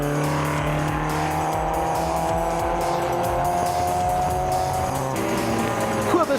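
Historic race cars, including a Chevron B19, howl past on a circuit, a dense continuous engine roar with shifting pitches from several cars near the closing stages of a race, with a brief tire squeal at the end.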